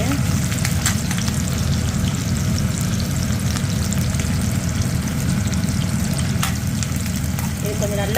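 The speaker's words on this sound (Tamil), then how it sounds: "இது கொஞ்சம் நல்லா வதங்கட்டும்." Ingredients for a spicy red chutney sauté in plenty of oil in a pan, making a loud, constant close sizzle and hiss across the whole stretch, with faint kitchen clatter and a voice now and then.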